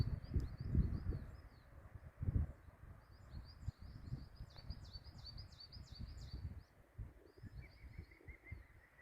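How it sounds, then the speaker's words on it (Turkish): Birds chirp in short repeated bursts over a low outdoor rumble in a forest at Ilgaz Pass near Tosya, Kastamonu, with a brief steady trill near the end, fairly faint and distant. "Kuş cıvıltılarını duyduğunuzu tahmin ediyorum."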